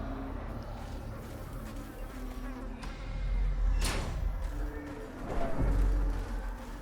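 Thronging hive in the Darkest Dungeon video game, a continuous swarming insect buzz that rises and falls, with a couple of sharper thuds mixed in and no talking.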